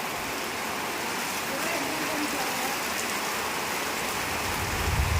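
Monsoon rain falls steadily over a village home, producing a dense, continuous hiss of drops that stays at an even loudness and swells slightly near the end.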